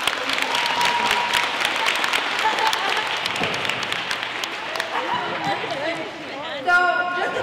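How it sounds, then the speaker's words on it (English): Middle school students in a gym applaud with sharp, close claps and some crowd noise, loud at first and thinning out, ending with a brief burst of voices. "Let's give your fellow roommates a round of applause."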